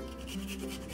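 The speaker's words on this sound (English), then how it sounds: "Have the ginger. I'm gonna grate it" Fresh ginger rubbed against a grater into a bowl, a steady close rasping scrape with slight rhythmic strokes.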